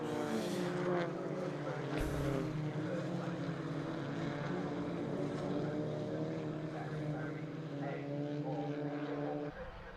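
Several race cars drive a circuit, their engines droning continuously in overlapping tones at moderate distance, pitch shifting as they pass through corners.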